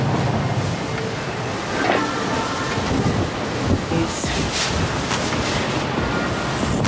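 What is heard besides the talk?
wind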